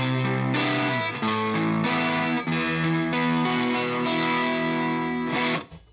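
A 12-string guitar played through a Zander Circuitry effects pedal at a boutique guitar festival, rich shimmering strummed chords with chorus-like distortion, loud and sustained, ending abruptly.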